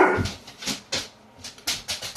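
A dog whimpering close by in short repeated whines and yips, spaced irregularly, with no talk over them.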